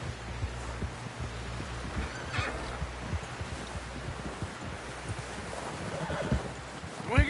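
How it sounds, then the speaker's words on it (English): Video game horse hooves clip-clop steadily over a rustling, windy outdoor background, with a faint whinny and some distant voices, in Red Dead Redemption 2. "Someone help John down off this horse."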